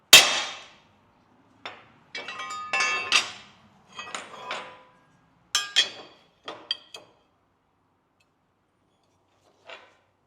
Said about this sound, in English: I'm just going to punch, centre punch the two new holes that I need to drill